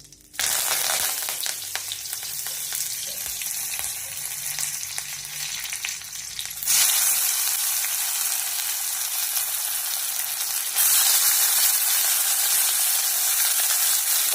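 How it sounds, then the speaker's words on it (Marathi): Onion sizzles steadily in hot oil in a kadhai over low gas, a loud, dense crackling hiss that grows brighter partway through and continues without talk. "कांदा छान भाजू द्या."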